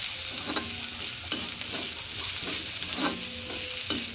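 Shallots and ginger garlic paste sauté in a hot pan for squid curry, a steady close sizzle broken by four or five regular spoon scrapes, with no talking.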